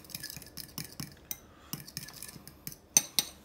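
A spoon clinks and scrapes around a bowl while mixing a serrano pepper sauce for chicken wings, with quick irregular taps and stirring strokes, close and fairly quiet.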